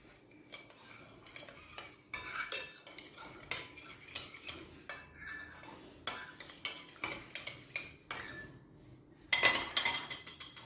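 Yeast being mixed into dough ingredients in a bowl with a spoon, heard as irregular clinks and scrapes of metal against the bowl, in short bursts with pauses, fairly close and moderately loud.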